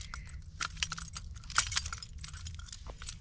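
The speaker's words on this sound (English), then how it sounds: "I clip all my keys and stuff onto this." A metal ring of keys clipped onto a belt loop jangles repeatedly while hiking in the Superstition Mountains, bright irregular clinks and rattles close by, with a steady low wind or background rumble underneath.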